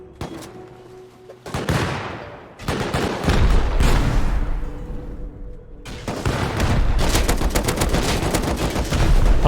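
Video game firefight with loud, dense gunfire in rapid automatic bursts and booming grenade blasts, near and continuous across the clip with brief gaps, no speech audible.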